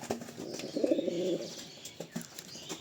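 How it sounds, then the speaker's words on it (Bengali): A Murshidabadi Giribaz pigeon, an older bird, coos in a few soft, low, rolling phrases close by, with faint chirps from other birds in the background. "আসল পুরাতন যাদের মুর্শিদাবাদী গিরিবাজ পায়রা এটা"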